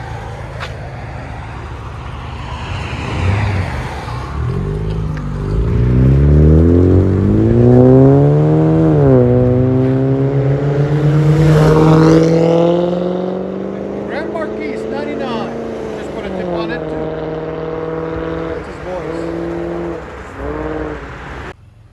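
Chevy Malibu 4-cylinder turbo with a straight-pipe or muffler-delete exhaust, close and loud, revving up through rising gear pulls with swelling engine tone, briefly dropping between shifts before settling into a steady drone.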